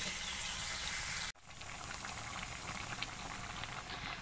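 Tomatoes simmering in a covered pan, a constant close bubbling and hissing boil with a brief break partway through before the steady bubbling resumes at a slightly lower level.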